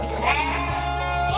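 A goat bleats in one long, loud, wavering call that carries steadily through the whole moment, close to the listener at a goat breeding pen.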